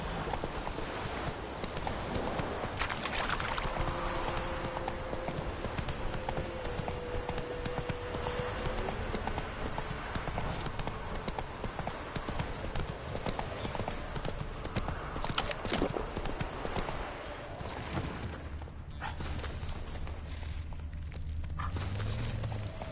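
Horse hooves clip-clopping at a trot in The Witcher 3 on PS5, a steady rhythmic clatter over a constant rumbling backdrop, with a brief change in the ambience near the end.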